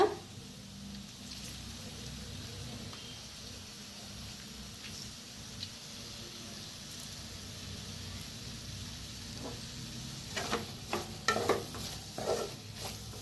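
Potato bhaji with lemon juice being stirred in a pan, a steady soft scraping and sizzle throughout, growing into several sharper clinks and scrapes of the spoon near the end.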